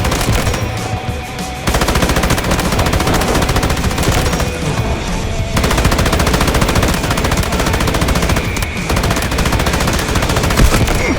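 Sustained bursts of M249 light machine gun fire in the shooter game Delta Force, loud and near, with rapid rattling volleys broken by a couple of brief pauses.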